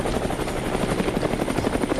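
A helicopter sound effect in a Hindi audio comic story, a loud continuous rotor drone with rapid blade chop, steady and close throughout, with no voices.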